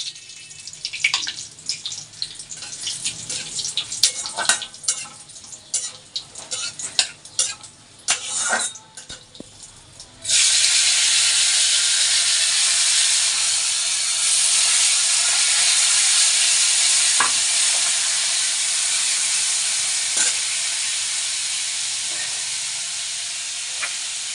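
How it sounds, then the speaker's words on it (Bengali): A bay leaf, a dried chili, cumin seeds and whole garam masala hit hot oil, bursting into a sudden loud, steady sizzle that carries on alone after a stretch of light kitchen clatter. "ফোড়নে দিচ্ছি তেজপাতা একটা শুকনো লঙ্কা কয়েকটা জিরা আর গোটা গরম মশলা"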